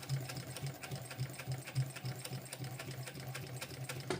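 Domestic sewing machine stitching fabric for a bum bag, a fast steady mechanical whirr with regular clicking pulses, quiet and close, running alone without talk.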